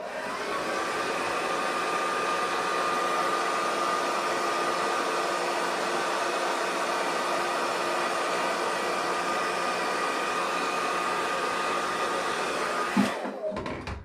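A hair dryer blows steadily and close up as a comb is drawn through a beard for heat straightening, a continuous airy roar that cuts off abruptly near the end.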